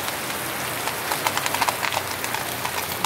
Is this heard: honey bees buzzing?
no